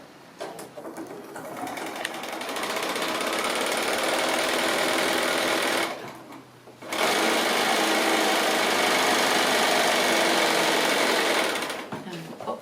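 A sewing machine runs steadily as it stitches down the seam of a quilt block, a close, continuous whirring hum that stops briefly about halfway through before starting up again.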